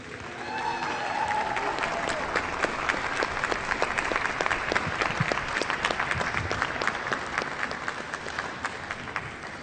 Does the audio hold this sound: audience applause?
yes